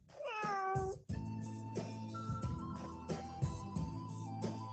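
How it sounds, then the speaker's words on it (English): A recorded domestic cat meows several times in a row, a clear rising-and-falling call followed by repeated shorter mews over a steady background, heard alone and fairly close. "Cat."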